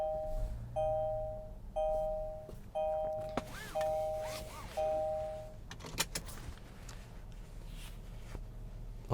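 A 2022 Kia Carnival SX Prestige minivan starts up, with five evenly spaced electronic chimes followed by the click and whir of the engine catching. A low cabin hum follows.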